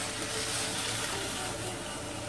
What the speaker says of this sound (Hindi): 1 कप जो दूध लिया है इसको डालेंगे।